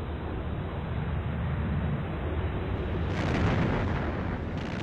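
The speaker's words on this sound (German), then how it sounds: "Die Texas schießt 59 Granaten ab und zerstört ihr erstes Ziel" Heavy naval gunfire from the battleship USS Texas rolls out as a dense, sustained roar of booming blasts that swells louder partway through, with no voices.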